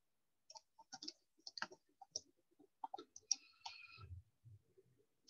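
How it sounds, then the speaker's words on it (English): Soft, scattered clicks and taps of typing on a computer keyboard, quiet and irregular, with a few faint knocks and a low thump near the end, and no talking. "why am I typing?"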